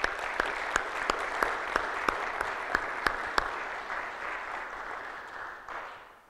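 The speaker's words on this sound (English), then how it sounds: "let's give them another round of applause" Conference audience applauding at a security event, a steady wash of clapping with sharp individual claps standing out near the microphone, holding even then tapering off at the end.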